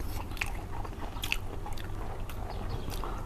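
Crunchy biting and chewing on braised pork ribs stewed with potatoes, close and wet, with irregular crunches and smacking over a low background hum.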